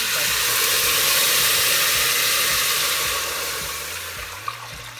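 Water pours steadily from a jug into a cooking pot for a soup of greens, beans and noodles, a loud continuous splashing rush that eases slightly toward the end.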